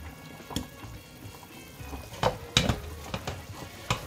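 Garlic, chopped vegetables and sauce sizzle softly in a frying pan for lasagne, a low steady crackle with occasional sharper pops and clinks of stirring, no voices.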